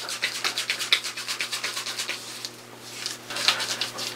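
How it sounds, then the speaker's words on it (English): Hands rubbing together with Taylor of Old Bond Street sandalwood shaving cream produce a close, soft, rhythmic swishing, a quick regular back-and-forth rub that slows briefly near the middle and then resumes, with no voices. "If you rub your hands together,"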